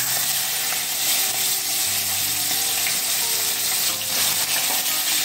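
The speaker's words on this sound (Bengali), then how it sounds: "এরপর কড়াইতে তেল গরম হয়ে গেলে আমরা নুন হলুদ মাখিয়ে রাখা মাথাগুলো দিয়ে দেবো।" Hilsa fish heads rubbed with salt and turmeric fry in hot oil in a wok, giving a loud, continuous sizzle and crackle close by with no talking.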